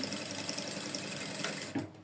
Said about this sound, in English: So I'm using the guide on my sewing machine. So I'm going to be sewing it down